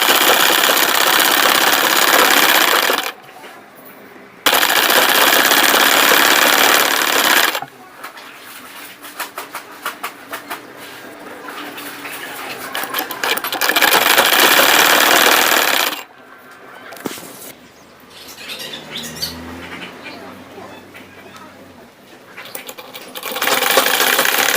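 A sewing machine stitching a mekhela runs in loud continuous bursts, stopping and starting between stretches of quieter handling noise, with no speech.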